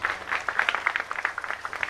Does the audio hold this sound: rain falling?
no